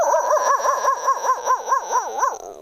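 A voice imitates a dog barking in the distance from a neighbouring village, a rhythmic run of about ten wavering howl-like barks at steady pace, sung alone with no other talk.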